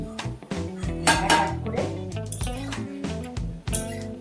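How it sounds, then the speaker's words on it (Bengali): Fried sweet potato pithas being lifted out of a pan of white oil with a metal spatula: repeated scraping and clinks of metal on the pan, close and clattering, over a low background. "একটা ছানটা দিয়ে তুলে নিচ্ছি"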